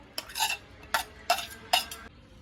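Mashed potato with black chickpeas, onion and spices is mixed for golgappa filling: four distinct scraping stirring strokes close up, with short pauses between them and no voices.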